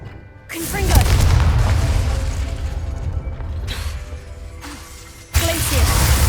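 The Confringo fire-blast spell in the video game Hogwarts Legacy: a heavy booming explosion with a rumbling, mechanical tail, then a brief lull and a second sharp blast near the end.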